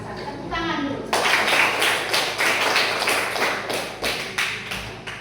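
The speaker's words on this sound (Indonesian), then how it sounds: "Tepuk tangan dulu" A classroom of children breaks into applause, a dense burst of clapping that starts suddenly after a brief voice and carries on with uneven pulses before thinning out at the end.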